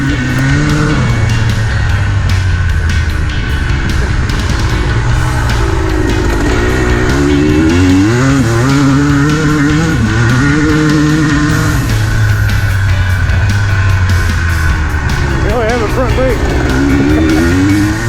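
A 1984 Kawasaki KDX 200 dirt bike engine revs and whines continuously, loud and close, with shifting pitch as it labors and slides in snow on old cracked tires.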